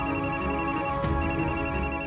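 A telephone rings in a Marathi TV serial scene, a steady tonal ring with a brief burst partway through, heard over background music.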